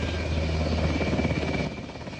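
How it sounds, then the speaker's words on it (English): A helicopter dropping off armed agents near a trailer park, its steady, pulsing rotor thrum filling the clip, loud and continuous with a broad rushing roar. "helicopter drops off armed agents"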